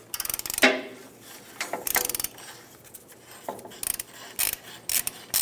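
A ratchet wrench clicks in short bursts while loosening a 29 mm bolt on the bottom coil spring cup of a 1992–1996 Ford F-150, with metallic rattles and pauses between pulls, close and fairly quiet.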